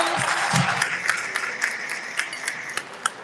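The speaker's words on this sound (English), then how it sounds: "Let's give them another round of applause" Audience applause at an alumni class reunion and community celebration, a steady wash of clapping with a few sharper claps standing out, a brief low murmur near the start, fading gently toward the end.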